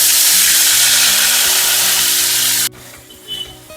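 Ground tomato, onion and green chili masala hits hot oil for a fish curry, giving a loud, hissing sizzle with stirring scrapes that drops away abruptly to a faint simmer.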